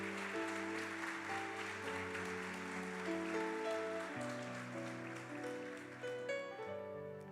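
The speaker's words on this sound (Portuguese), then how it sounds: "Você pode aplaudir ao Senhor por causa disso?" A church congregation applauds during a sermon, a broad wash of steady clapping that blends with sustained organ or keyboard chords playing underneath, fairly quiet overall.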